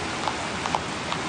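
Steady rain falls outdoors as a dense, even hiss, with a few slightly louder drops landing on a surface nearby.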